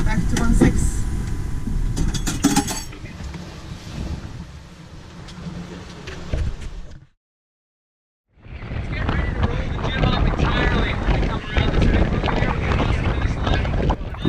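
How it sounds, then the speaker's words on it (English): A sailboat runs fast offshore toward Bermuda in building wind, with loud continuous wind buffeting and rushing water, broken by a short silent gap before the roar resumes. "Our fastest sailing on the trip happened in the last few miles as the wind built behind us"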